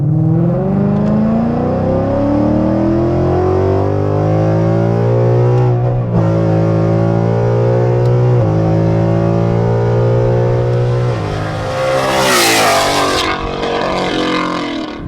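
A Mustang exhaust in track mode revs hard and loud up close, the roaring engine note climbing and dropping in repeated sweeps, with a sharp crackling burst on a downshift near the end.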